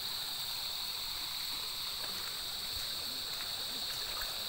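Steady, even rush of a river current in rainy weather, where gold is being washed. The moderately faint hiss continues unbroken, with no distinct splashes standing out.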